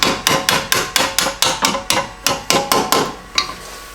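A hammer taps a bolt into a Nissan Altima steering knuckle with about fifteen sharp, evenly spaced metallic strikes, close and loud, slowing slightly toward the end.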